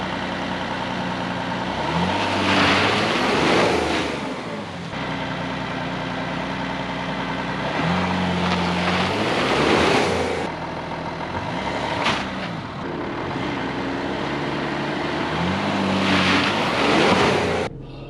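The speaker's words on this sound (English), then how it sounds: "Let's find out if all-wheel drive still works on this car." A 2012 Audi Q5 with over 423,000 km revs repeatedly during an all-wheel-drive test, loud engine surges rising and falling about every five seconds between steady idling, with no one talking.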